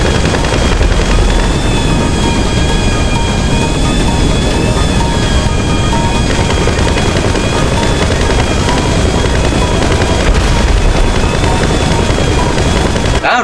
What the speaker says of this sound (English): I hear explosions out there.